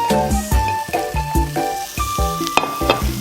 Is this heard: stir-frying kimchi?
yes